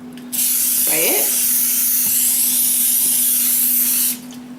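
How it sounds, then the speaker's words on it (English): Cooking spray sprayed into a lasagna pan makes one steady, loud aerosol hiss lasting about four seconds, with a brief voice near the start. "Spray it."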